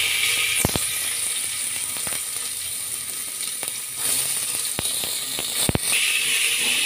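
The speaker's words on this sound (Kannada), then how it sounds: "ಈರುಳ್ಳಿನ ಫ್ರೈ ಮಾಡ್ಕೊಳ್ಳೋಣ ಸ್ವಲ್ಪ." Onions and mustard seeds frying in cooking oil in a pot on a stove, making a steady close sizzle and crackle with sharp popping ticks scattered throughout.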